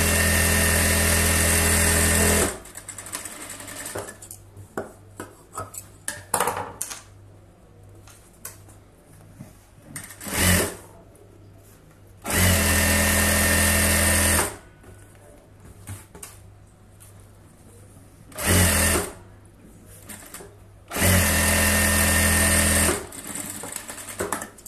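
A sewing machine stitches the lining edge of a blouse in loud, close bursts of varying length, with quieter handling sounds in the gaps between runs.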